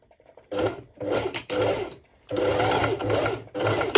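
A sewing machine stitches pole dance bottoms in bursts, its motor whirring and needle chattering in several runs of about a second each, separated by brief pauses, loud and close.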